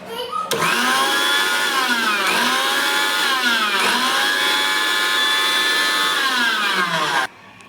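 A kitchen mixer grinder churns peanuts with ginger, chili and garlic paste for green chili chutney, a loud, steady motor whir whose pitch dips and swells in repeated pulses before it cuts off abruptly near the end.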